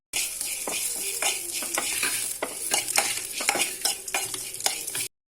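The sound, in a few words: dry roasting poppy seeds and spices in a pan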